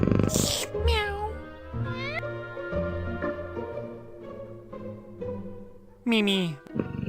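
Cartoon cat meowing in the Scott Whiskers: The Search for Mr. Fumbleclaw adventure game, several clear, loud tonal meows with rising and falling pitch, set over steady game music, with a longer meow near the end.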